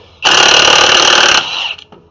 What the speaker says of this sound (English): This thing will actually hammer really well